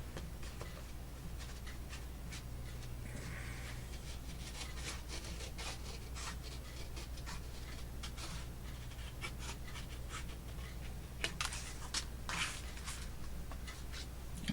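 Paper being scored along a measured fold line for a Japanese pocket folio, a steady faint scraping and rubbing that runs continuously at close range, with a few brief louder strokes near the end.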